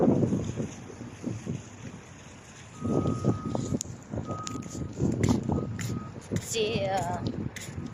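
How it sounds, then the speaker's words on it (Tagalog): Strong surf and gusting wind on a windy beach at Cornish Beach in Abu Dhabi, a steady wash of waves with wind rumble across the microphone, while people talk intermittently over it and a few high beeps sound near the end. "The wave is strong because it's windy today."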